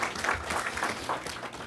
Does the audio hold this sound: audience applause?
yes